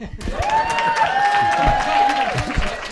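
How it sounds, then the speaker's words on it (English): A live podcast audience at a business event claps and cheers, the clapping steady under a voice shouting or speaking loudly over it with rising and falling tones. "Clap your hands if you agree."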